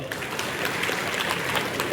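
An audience at a public function in Maharashtra claps together in a dense, continuous patter of applause, moderately loud and steady throughout the short stretch.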